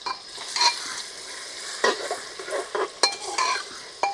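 Onions sizzle and fry in a hot pressure cooker while a utensil stirs and scrapes against the metal in irregular bursts.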